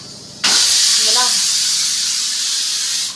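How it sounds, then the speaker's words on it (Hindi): A pressure cooker cooking kidney beans lets out a loud, sustained steam whistle that bursts in and hisses continuously for nearly three seconds, with a brief tonal warble early on. "सीटी के लिए हाथ मारना पड़ रहा है बार बार"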